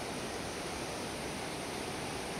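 Floodwater flows through a flooded area in a steady, loud broadband rush that stays even from start to finish, with no voices or other sounds.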